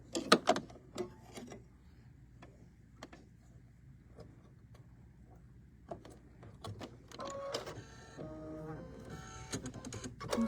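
A sewing machine stitches a decorative braided stitch around a sail piece, producing close, rhythmic mechanical whirring bursts with pauses between runs and a longer stretch near the end.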